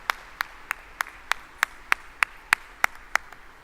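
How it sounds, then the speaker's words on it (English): Slow, evenly spaced single claps, about ten sharp hand-claps over a few seconds, ring out fairly close at an anniversary celebration of a skills development centre, with no talking over them. "Keep that applause going, ladies and gentlemen."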